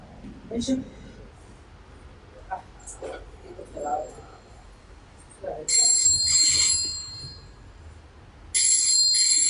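A shrill electronic telephone ring sounds in two bursts, loud and close, following scattered talk and small household noises.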